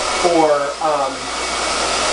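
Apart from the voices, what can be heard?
hair dryer blowing on high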